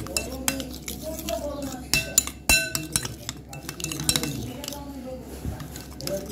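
A spoon clinks and scrapes against a bowl while ingredients are mixed with black salt, making repeated irregular taps and chinks, close by, with a voice talking at times.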